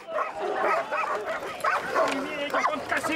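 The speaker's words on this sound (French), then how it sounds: "Les chiens sont ceux des policiers urbains de Lens." Police dogs of the urban police in Lens bark and yelp excitedly in repeated, close bursts during an arrest, mixed with whimpering, while people talk over them.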